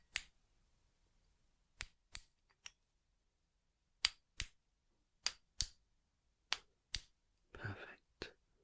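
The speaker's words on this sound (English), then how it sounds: "use this device that I have to make some clicking sounds" Sharp, crisp clicks from a handheld device, fired singly and in quick pairs with silent gaps between, close and clear, plus a brief soft rustle near the end.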